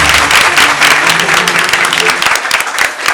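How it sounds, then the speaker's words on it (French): A crowd at a university debating competition applauds loudly and densely, a sustained roar of clapping filling the room before thinning slightly at the end. "On applaudit fort."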